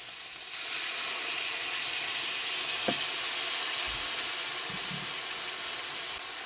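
Boiled potatoes and chickpeas sizzling in a pan after a little water is added for chana paneer, a loud sudden hiss that settles into steady frying crackle with a faint stir or two.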